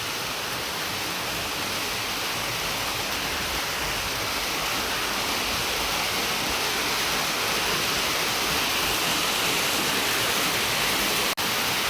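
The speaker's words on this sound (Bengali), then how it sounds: "এখনও বৃষ্টি হচ্ছে" Steady rain falls on a poultry farm with torn curtains after a spring storm, a dense, even hiss running the whole time with no voices.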